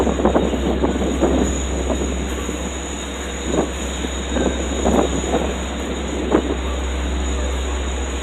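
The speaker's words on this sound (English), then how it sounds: "There's a diesel over there on the other side." A diesel locomotive on the Long Island Rail Road near Carle Place station idles across the tracks, giving a steady droning rumble with a few faint clanks and knocks over it.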